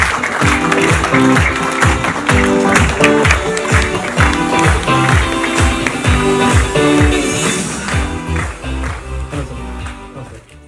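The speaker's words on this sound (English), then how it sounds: "Huge round of applause, guys." Crowd applause at an MTV launch event plays under loud stage music with a pounding beat, the clapping blended into the mix and fading out with the music near the end.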